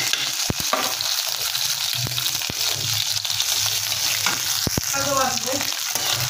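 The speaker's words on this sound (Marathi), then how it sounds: "यात घातलंय मी मखाना टाकून मी गॅस बारीक करून घेतला आणि थोडं आता ह्याला चांगलं भाजून घेते" Makhana (fox nuts) roast in a spoonful of ghee in a hot kadhai on low heat, a continuous close sizzle broken by sharp clicks and knocks of stirring against the pan.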